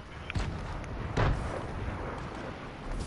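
Gunshot in the Fortnite video game fired from Polar Peak, a muffled distant boom with a second crack about a second later over steady game ambience.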